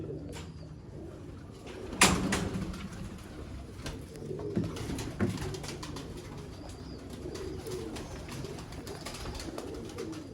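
Dub pigeons of the Mian Nazir bloodline coo softly and repeatedly on a rooftop loft, with a sharp knock early on and a low, continuous murmur of calls throughout.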